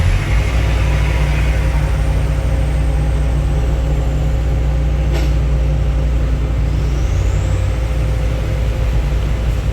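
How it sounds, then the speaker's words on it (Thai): A tractor engine roars with a loud, steady low drone that stays constant throughout, close by at a worksite, with a brief higher whine partway through. "เสียงรถไถลั่นเข้ามาเลย"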